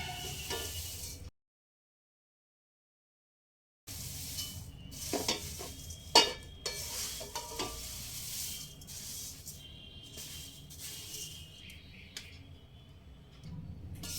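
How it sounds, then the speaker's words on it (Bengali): Dry flattened rice (poha, about 500 grams) frying without oil in a large wok while being stirred, a soft steady rustling sizzle with scattered scraping ticks and one brief silent gap. "পাঁচশো গ্রাম সমস্ত চিড়েগুলোই আমি একটা বড় কড়াইতে দিয়েই একসঙ্গে ভেজে নিচ্ছি"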